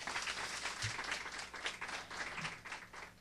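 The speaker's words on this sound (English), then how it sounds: "Let's give them another round of applause." An audience at an AVANCE news conference claps loudly in steady, sustained applause for a performance by parents and children, filling the room with dense, continuous clapping and no speech.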